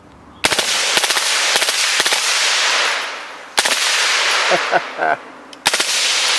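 Suppressed M16 rifle firing on full auto, several sharp bursts of rapid, loud cracks separated by short pauses, with brief quieter gaps between strings of shots.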